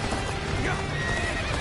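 A horse in the Dynasty Warriors Origins video game whinnies over fast galloping hooves in a short, loud burst, set in a dense battle soundscape with a voice faintly present.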